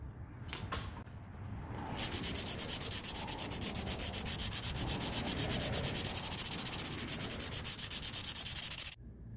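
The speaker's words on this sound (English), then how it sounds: "And then we're going to do some sanding on it." Sandpaper rubs glaze filler on the rear bumper of a Ford Explorer. The scraping is fast, rhythmic and close, and it continues steadily for several seconds before stopping abruptly.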